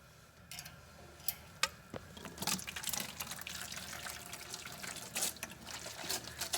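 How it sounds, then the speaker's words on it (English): Outdoors in cool weather, water is drawn off into a homebrew mash tun to warm it: a faint trickling, splashing stream with scattered small ticks and clunks of equipment, building slightly after the first two seconds. "I'm going to draw just a little bit of water off of this"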